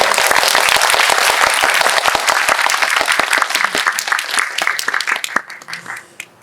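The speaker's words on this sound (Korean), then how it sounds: "와닿으셨다면 큰 박수로." An audience at a film screening and Q&A for the Korean movie 'Cassiopeia' at Megabox COEX, theater 10, breaks into loud, dense applause that thins into scattered claps and fades out at the end.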